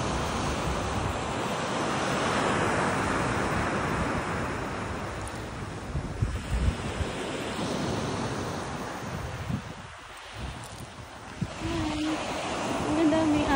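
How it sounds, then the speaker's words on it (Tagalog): Sea waves wash onto a seaside shore in a steady, continuous roar, with wind buffeting the microphone and a few faint voices near the end. "Ang sarap ng tunog ng alon."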